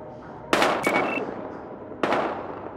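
Gunfire in the video game Battlefield Hardline: three sharp, loud shots, two in quick succession and then one more after a pause, each with a short echoing tail.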